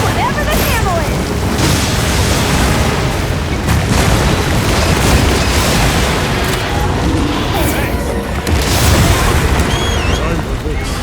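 Heavy gunfire and booming explosions from a battle in Monster Hunter Wilds, including an anti-wyvern gun fired at a huge monster, dense and continuous throughout with layered blasts and a voice speaking over the din.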